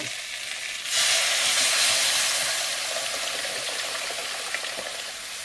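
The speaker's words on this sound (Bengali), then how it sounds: "ঝোলটা ফুটে উঠেছে" Curry gravy for a magur catfish dish comes to a rolling boil in a pot, giving a dense, steady bubbling hiss that swells suddenly and then holds, close and continuous, with no voices.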